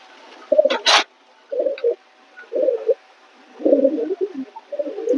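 Pigeons being dosed with deworming medicine coo repeatedly nearby, low throaty phrases in a loose rhythm of short bursts, with a sharper flutter or chirp early on.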